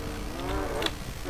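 A goat in the horror video game Devour gives a short, wavering bleat that sits low in a constant hiss of background ambience, with no talking over it.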